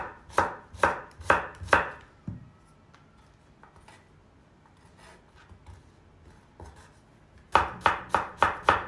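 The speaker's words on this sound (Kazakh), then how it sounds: "Өте ұсақ етіп тураймыз." A knife chops vegetables finely on a board for a salad, quick bursts of crisp close strokes at the start and end with a quieter pause of soft handling between them.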